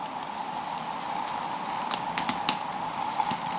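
Chicken balls bubbling and sizzling in a pan over a camp stove outdoors in the mountains, a steady close crackle and bubble with scattered pops, no voices.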